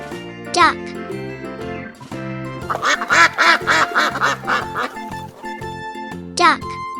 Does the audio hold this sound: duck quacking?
yes